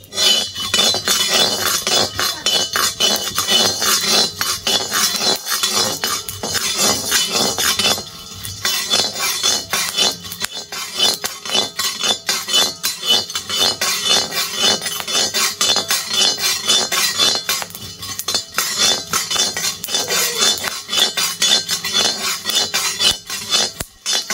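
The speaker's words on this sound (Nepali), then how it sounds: "म चाहिँ कराईमा भुट्दैछु मकै।" Corn kernels roast in a karai wok, a loud, dense, continuous rattle and scrape of kernels and utensil against the metal, with only a brief lull partway through.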